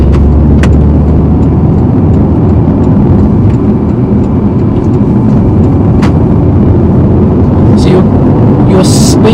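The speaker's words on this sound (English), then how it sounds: "then clutch down into third and then I can pull away." Manual car braking, shifting down into third and pulling away: a loud, steady engine and road rumble fills the cabin throughout, with a few brief clicks and knocks from the controls; someone talks over it.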